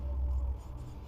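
Chalk or marker writing a line on a board during a chemistry lesson on pyridine, a short scratchy stroke about half a second long followed by quieter room noise.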